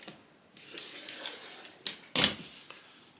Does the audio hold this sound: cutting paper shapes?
yes